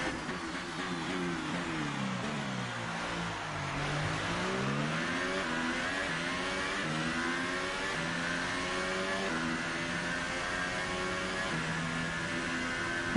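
Race car engines in a racing video game rev and shift continuously, gear changes stepping the pitch up and down in a dense, steady roar with no pauses.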